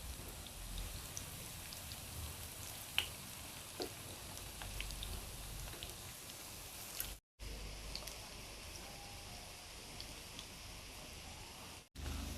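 Chicken reshmi kabab fries in a pan with a steady, dense sizzle and crackle, broken by a few sharper pops and two brief dropouts, with no voices.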